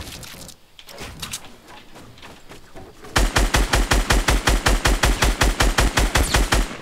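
Video game gunfire: quieter scattered shots and clatter at first, then a loud, rapid, evenly spaced automatic burst of about twenty shots that runs to the end.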